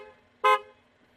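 A BMW 430i convertible's horn gives one loud, close honk of about a fifth of a second. It rises sharply from a quiet idle hum and then falls away.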